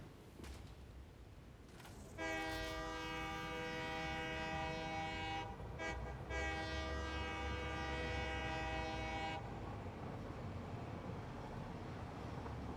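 Video game train rolling along with steady low rumble, sounding its horn in two long chord blasts, the second lasting several seconds, under a quiet background.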